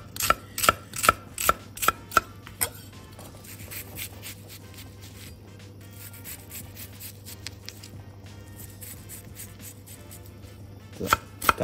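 A sharp knife dices onion on a cutting board as a pasta sauce is prepared. Quick rhythmic chops come in a burst at the start, a quieter stretch follows, and a few more chops land near the end.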